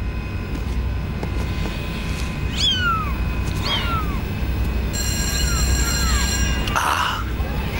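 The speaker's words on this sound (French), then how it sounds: "Ce sont mes chatons." Small kittens in a cardboard box give several short, high meows, near and clear over a constant low background hum, with a few cries spaced across the span.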